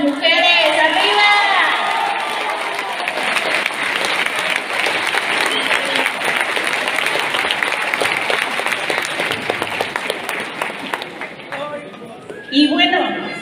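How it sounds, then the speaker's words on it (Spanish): Loud crowd applause for women at a political rally, sustained clapping mixed with cheering and shouts for several seconds, with a voice speaking at the start and again near the end. "Así que un aplauso a todas las mujeres."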